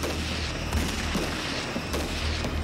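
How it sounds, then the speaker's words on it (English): Gunfire aimed at an aircraft in an animated show: several loud, booming shots crack out at irregular moments over a constant engine-like drone. "Someone's shooting at us."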